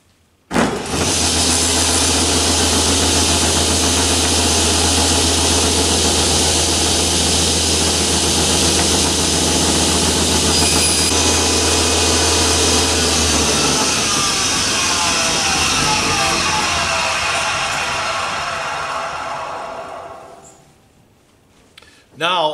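Table saw running at full, loud and steady as it rips plywood along a rip fence, its continuous motor roar holding for most of the stretch before spinning down and fading near the end.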